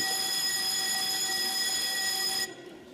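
A parliamentary voting bell, pressed by the president before a plenary vote, rings as a loud steady electric buzz for about two and a half seconds, then cuts off abruptly into quiet room tone.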